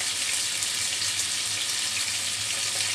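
Tilapia fish frying in hot oil, a steady hissing sizzle that stays even and close throughout.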